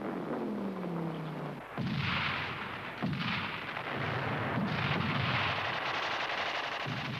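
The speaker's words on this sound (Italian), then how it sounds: "Il cannone tedesco è pronto." A German field cannon fires across the World War I Alpine front toward Italian trenches dug on a distant hill. Heavy booming blasts break out at intervals over a continuous rough rumble, with no talking.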